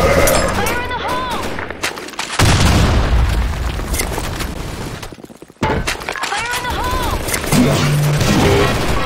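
A grenade explodes in the shooter game Blackshot with a loud boom and shattering debris, followed by heavy rumbling and sharp gunfire-like cracks, with game voice callouts mixed in.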